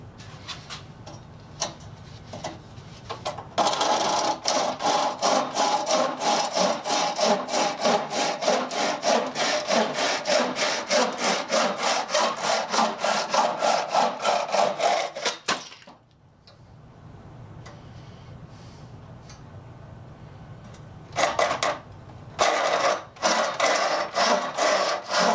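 A restored, freshly sharpened and set frame saw cuts through wood in quick, regular rasping back-and-forth strokes, close and loud, pausing briefly near the end before a few final strokes.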